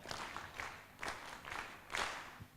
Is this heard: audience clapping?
yes